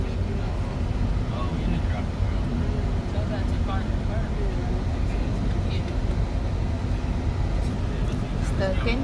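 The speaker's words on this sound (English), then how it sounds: "Stuck in traffic." Street traffic in Mazatlan, Mexico, a steady near rumble of passing vehicles and engines with scattered higher noises, continuous and fairly loud, with people talking over it.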